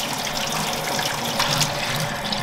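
Water from a tap runs steadily over a spoon to wet it, a close, continuous splashing stream without talk.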